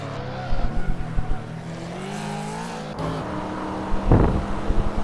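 A car in the Hot Wheels video game brakes and skids, an engine drone with tire squeal sweeping across, then a sharp burst of noise, heard fairly loud and up close.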